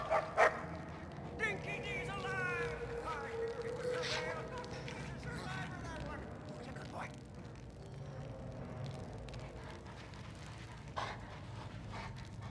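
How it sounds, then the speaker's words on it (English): A dog in the Mad Max video game barks and yips a few times near the start, then gives softer whimpering sounds under a steady game-world rumble. "Good dog."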